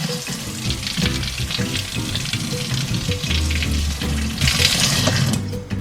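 Plum pieces caramelize in a hot pan, sending up a steady, loud sizzle and bubbling hiss that holds throughout with slight surges.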